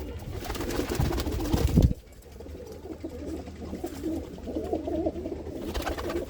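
Pigeons in a home loft coo in soft, low, repeated calls, loud and close at first and then quieter and intermittent, with no talking.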